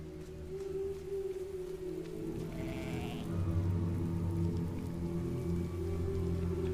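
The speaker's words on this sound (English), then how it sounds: "maybe we can use it to help out Flekka, that little sheep friend we have." A sheep bleats in the video game Island of Winds, a low wavering call over an ambient game soundscape with faint rain-like patter and a steady droning tone.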